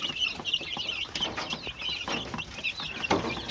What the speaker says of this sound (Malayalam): ഈ കാണുന്ന കോഴിക്കുഞ്ഞുങ്ങളാണ് കേട്ടോ